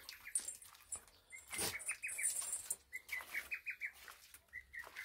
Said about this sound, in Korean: 새들이.